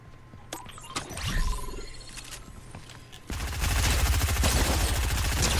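Fortnite gunfire breaks out after scattered swishes and scrapes, then becomes a loud, continuous rattle of rapid automatic shots that lasts the final two and a half seconds.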